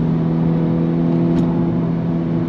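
A Honda Civic Type R GT on the move, its engine holding a steady, loud, even drone from inside the cabin, with no voices over it.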